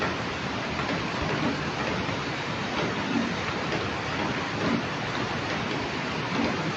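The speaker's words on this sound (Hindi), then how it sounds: "आज बारिश का जो सिलसिला है वो अभी भी इस वक्त चला हुआ है" Heavy monsoon rain falls steadily in Solan, Himachal Pradesh, a dense, unbroken hiss of downpour close by with no talk over it.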